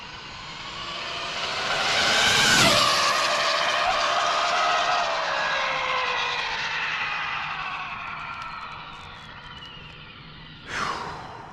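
An Arrma Limitless 1721 RC car on 6S or 8S power makes a high-speed test run on a road. Its shrill electric whine builds, sweeps past with a sharp pitch drop, then trails off before a brief sharp noise near the end.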